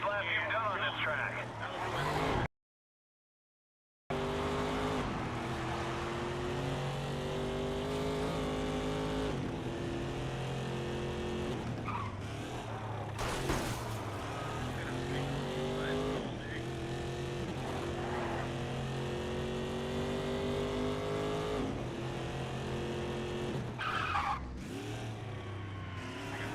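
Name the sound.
race car driving and skidding in racing video game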